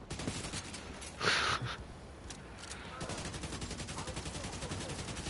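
Rapid gunfire in the video game The Division 2, a dense run of shots close and loud, with a brief burst of louder noise partway through, and no voices.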